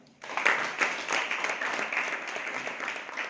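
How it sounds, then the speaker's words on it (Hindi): Enthusiastic audience applause at a Safe Shop business meeting in Mandla, dense steady clapping that starts suddenly and fills the room at a fairly close, even level. "इनके लिए जोरदार तालियां"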